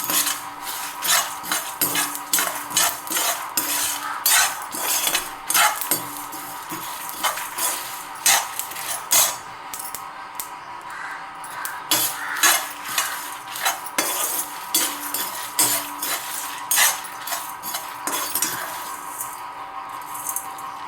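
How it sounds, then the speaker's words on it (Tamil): A spoon scrapes and stirs repeatedly in a hot kadai, with the stove switched off, dry-roasting ingredients for tamarind rice. The metallic scrapes come in a quick, irregular rhythm, close and fairly loud, with a faint sizzle beneath and no talking. "அடுப்பை ஆஃப் பண்ணிவிட்டு அந்த கடாய் கையிலேயே அந்த சூடு இருக்கும் இல்லையா, அந்த சூடுலேயே அப்படியே வறுத்துக்கணும்"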